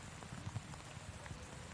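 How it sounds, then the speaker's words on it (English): Heavy rain on the flooded circuit at Zolder during a Lotus Cup Europe race, a faint continuous wash of drops with soft, scattered splashes, distant and even. "just judging by how much rain's on the circuit"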